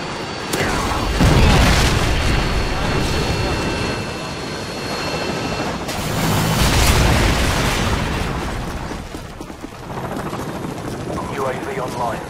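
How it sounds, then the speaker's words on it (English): A predator missile strike in Call of Duty lands with deep, rumbling booms that swell and fade over several seconds, backed by a droning aircraft-like roar and sharp bursts, with voices talking over the din. "Friendly predator missile inbound."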